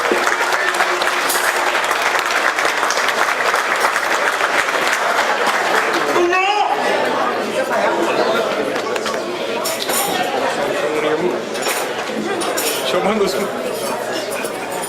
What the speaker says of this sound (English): Everyone, please clap to the Special Officer Martinez